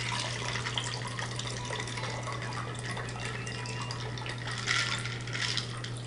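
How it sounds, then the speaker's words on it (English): Ice rattles and clinks inside a cocktail shaker holding crushed ice, bourbon and simple syrup, a steady close shaking with splashy metallic jingles that swell briefly near the end. "I'm just going to shake this with some little bit of crushed ice"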